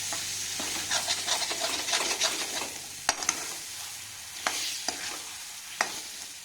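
Fresh peas being stirred in a frying pan make a low, continuous sizzle with scraping spoon strokes, then several sharp taps of the spoon against the pan as the frying quietens.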